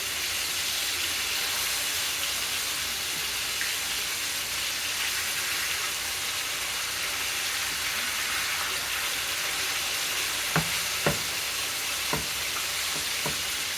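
Pounded pork loin chops frying in a pan, a loud, continuous sizzle that fills the whole stretch, with a few brief knocks near the end.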